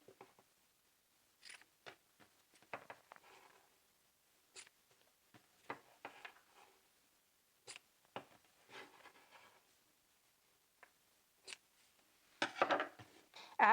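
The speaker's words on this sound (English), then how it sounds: "we're going to take our scissors and just cut those apart at the markings" Scissors cut apart fabric skirt carriers for a lined pencil skirt: a series of crisp, close snips spaced irregularly over a quiet background, growing louder near the end.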